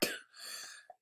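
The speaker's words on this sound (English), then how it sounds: "Sorry to cough there." A single sharp cough right up close, followed by a softer breathy tail and a brief faint throaty sound just before the clip ends.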